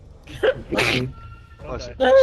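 One sharp sneeze bursts out in the middle of a tabletop role-playing session, with people talking just before and just after it.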